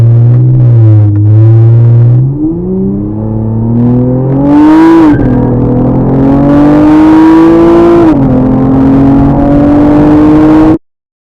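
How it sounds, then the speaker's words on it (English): Loud, close engine roar of a Honda Accord accelerating hard from first gear, pitch climbing through several gear shifts, then cutting off abruptly at the end; no one speaks. "dropped it to first gear and took off on this boy"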